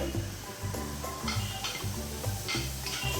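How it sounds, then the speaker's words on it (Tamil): Grated coconut sautéed in a pan for bottle gourd seed chutney, with a soft sizzle under repeated light scraping and ticking strokes of a spoon against the pan, fairly quiet and close. "இப்போது எடுத்து வச்சுருக்க தேங்காய் வந்து ஆட் பண்ணுறேன்"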